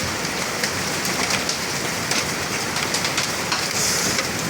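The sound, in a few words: heavy rain and strong wind at a farm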